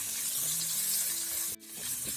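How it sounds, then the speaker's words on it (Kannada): Clams (marwai) frying in a pan for Mangalore-style pundi give a steady, close sizzle with soft stirring scrapes, broken by a brief dip near the end before the hiss returns. "ಇದು ಚೆನ್ನಾಗಿ ಫ್ರೈ ಆಗಬೇಕಿದು"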